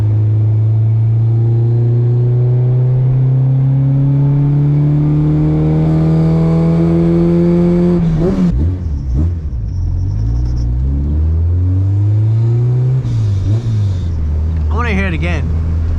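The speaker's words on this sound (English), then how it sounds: "Listen to that VTEC." A supercharged Honda K24 engine pulls hard, its loud drone climbing steadily in pitch as it revs into VTEC, then drops and climbs again after a shift, heard from close inside the car.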